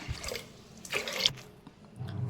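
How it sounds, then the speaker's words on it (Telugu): Water splashes and pours into a metal pressure cooker in a few short bursts, with faint clinks and handling noise between them, quiet and close. "ఒక 3 గ్లాసుల నీళ్ళు వేసేసుకుందాం."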